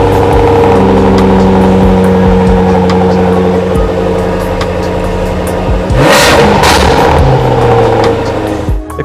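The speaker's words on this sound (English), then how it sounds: "And the showpiece of this car is the startup." A Jaguar F-Type SVR fires up and its exhaust roars loud and close, holding a rumbling idle with throttle blips and a sharp crackling burst partway through.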